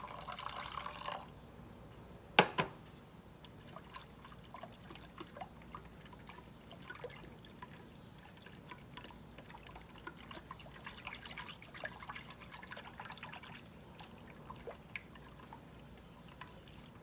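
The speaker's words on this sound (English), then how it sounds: "I'm going to add just a tiny bit more water to mine." Water trickles faintly into a bowl while a cheesecake jello dessert is being made, a soft, low-level pour with a few small drips and clinks and no speech.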